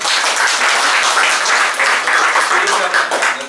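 Audience in a lecture hall applauds a professor with dense, continuous clapping that stays loud and even throughout.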